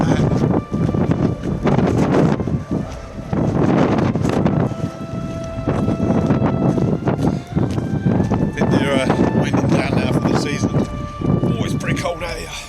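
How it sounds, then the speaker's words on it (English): Strong wind buffeting a microphone on a cold, sunny motorcycle tour through the Trossachs, a constant loud rushing roar with gusts, while someone talks over it. "But the wind still blowing up your trossachs."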